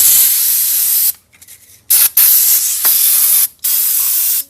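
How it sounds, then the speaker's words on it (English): Carburetor cleaner sprays onto the engine of a 1984 Pontiac Fiero left sitting for 30 years, loud close hissing bursts: a long spray, a brief pause, a short puff, then two more sustained blasts separated by gaps. "Got some carb clean. We can just kind of clean some of that junk off of there."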